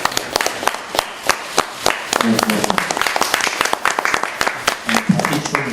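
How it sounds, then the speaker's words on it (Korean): Rhythmic clapping from attendees at an expanded party leadership meeting, loud sharp claps in quick regular succession throughout, with speech briefly overlapping in the middle and near the end. "박수 한번 칩시다"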